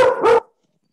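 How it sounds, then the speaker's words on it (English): A big dog gives a single close, loud double bark indoors, two quick sharp woofs, then silence. "Sorry, it's my dog."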